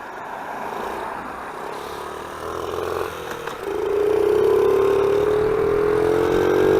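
A stock Honda XR50 (CRF50) dirt bike engine held at its top speed of about 31 mph, a steady mid-pitched drone whose tone slowly rises as it pulls harder, loud and continuous with no talking.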